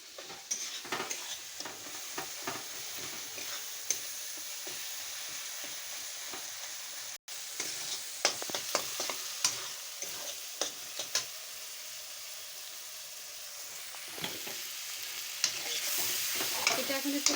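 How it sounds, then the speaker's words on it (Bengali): Steady close sizzling from a pan on a gas stove, broken by frequent scraping and clicking stirs, running continuously with a brief cut partway through. "এটা এখন একটু ভাজা ভাজা করে নেব"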